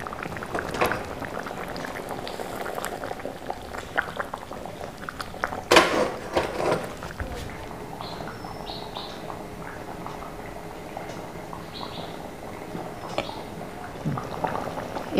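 Fish curry made with ground coconut boils in a clay pot, giving a continuous close bubbling and gurgling with small pops, plus one brief louder knock partway through.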